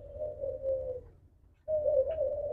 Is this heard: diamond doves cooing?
yes